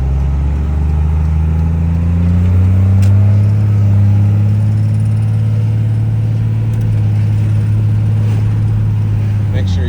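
A 12V Cummins diesel engine rated at about 300 horsepower is revved hard, a loud, deep, close rumble that rises in pitch and holds high and steady for the whole ten seconds.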